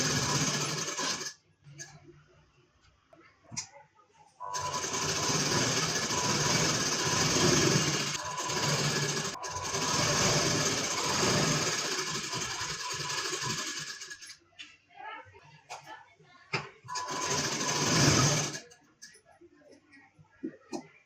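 A sewing machine stitches a four-tuck blouse in several bursts of steady whirring, separated by short pauses and clicks, while someone talks at intervals.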